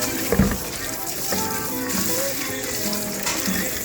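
Cooked bhaji leaves being rinsed and squeezed by hand in cold water, heard as close, continuous splashing and sloshing with small gushes, a louder splash near the start and a faint voice underneath.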